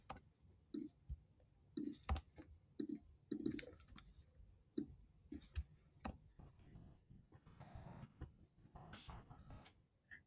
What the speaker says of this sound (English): I'm going to type this out because it is easier to type out.